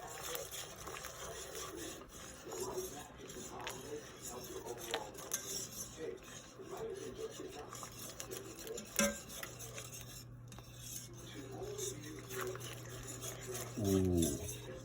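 A spoon scrapes and rubs steadily around a pot of simmering New England gumbo, with soft rasping strokes and small clinks that carry on throughout.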